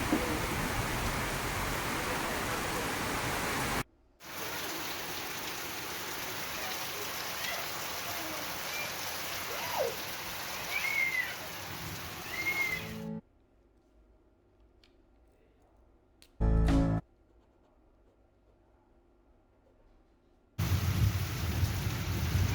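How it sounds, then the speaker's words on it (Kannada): Heavy monsoon rain pours down with thunder over Shivamogga in the Malenadu hills, a loud, steady downpour broken by abrupt silent gaps and brief bursts. "ಸಿಡಿಲು ಗುಡುಗಿನ ಅಬ್ಬರ ಕೂಡ ಜಾಸ್ತಿ ಆಗಿದೆ."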